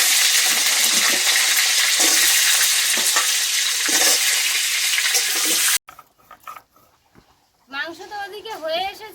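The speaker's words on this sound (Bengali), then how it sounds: "এবার কিন্তু আলুগুলো কিন্তু ভেজে নেবো" Potatoes frying in a pan of hot oil while a home meal is cooked, giving a loud, steady sizzle for several seconds before it cuts to a quieter scene with a voice.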